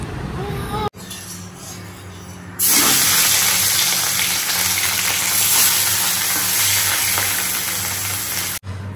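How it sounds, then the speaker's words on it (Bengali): Dry red chillies and nigella seeds spit and sizzle in hot oil, a loud, bright crackling that bursts in abruptly after a quieter stretch and holds steady, with a low hum underneath. "এবার পেঁয়াজটা ভাজবো, ফোড়ন দিয়ে দিচ্ছি, শুকনো লঙ্কা আর কালো জিরা।"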